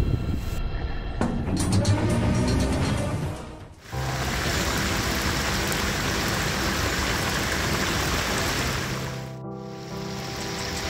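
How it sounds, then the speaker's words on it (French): Torrential rain pours down in Portugal with a dense, roaring hiss that is loud and continuous throughout, with brief dips in intensity along the way. "Voilà comment il pleut ici,"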